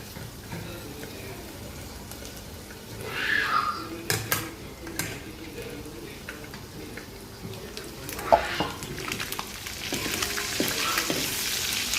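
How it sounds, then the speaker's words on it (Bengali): Steady sizzling of bitter gourd and potato frying in a pan, with occasional scraping and clinks of a utensil stirring, close by. "করলা ভাজিটাও হয়ে আসছে"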